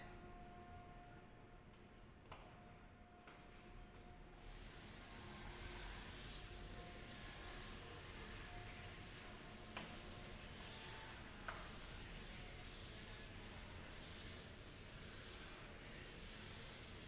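A board is rubbed clean of writing with a continuous soft scrubbing, faint and distant, carrying on steadily with a few light knocks along the way.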